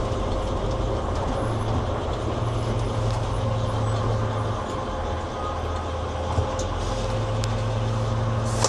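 A vehicle idles with a steady low engine drone and broadband rumble as it pulls up and comes to a stop, continuous and fairly loud throughout, with no talking.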